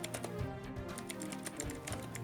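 Faint keyboard typing patters quietly behind a low steady tonal background during a tabletop role-playing game session, a few soft irregular key taps.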